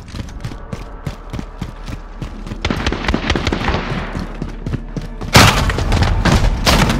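Enemy cruise missile strikes in the Call of Duty: Modern Warfare shooter land as heavy booming blasts, a rumbling barrage that swells midway and hits hardest near the end amid rapid gunfire and thuds.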